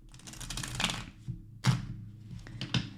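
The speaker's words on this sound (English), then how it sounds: "I've already shuffled the deck, but I'm just going to do one more quick shuffle." A deck of tarot cards is shuffled close by, with crisp riffling bursts and quick flicks and taps coming in uneven clusters, with no talking.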